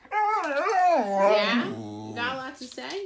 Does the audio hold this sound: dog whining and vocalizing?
yes